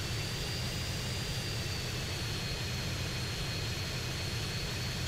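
Jet engine of an aircraft hovering in GTA San Andreas Definitive Edition, a steady loud roaring whoosh with a faint high whine, continuous throughout with no talking.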